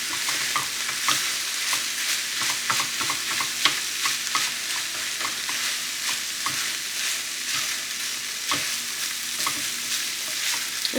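Greek sheet-pan chicken ingredients crowded into a small pan sizzle and get stirred, a continuous fry with frequent scraping and clinking strokes, close and alone without talk.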